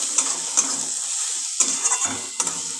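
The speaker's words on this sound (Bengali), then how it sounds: "ভালো করে মশলাটাকে কষিয়ে নিয়ে" Spice masala with a little sugar being sautéed in a pan for a prawn curry, a soft sizzle with a few sharp clinks and scrapes of a spoon at intervals, close by, no speech.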